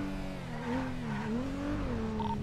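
Steady car engine hum with shifting pitch as a vehicle is driven in a GTA roleplay game, a continuous moderately loud drone with no talk.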